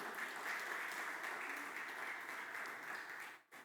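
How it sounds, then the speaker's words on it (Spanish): Church congregation applauding together, a steady dense wash of clapping that holds for over three seconds before cutting off abruptly. "Dele un aplauso al Señor."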